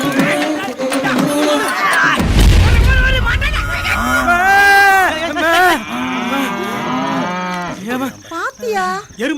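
Buffalo moo in loud, long drawn-out calls, several overlapping bellows close by, with a deep rumble and people talking underneath.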